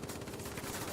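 Rapid machine gun fire from a B-17G bomber in a flight video game, in dense, continuous bursts, loud and close, with no voices.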